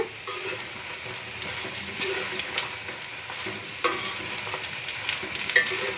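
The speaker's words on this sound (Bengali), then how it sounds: "আমি ধোকাগুলো লাল লাল করে ভেজে নেব।" Dhoka lentil cakes deep frying in hot oil, a steady bubbling sizzle with occasional stirring clinks and scrapes of a spatula against the pan, close and continuous throughout.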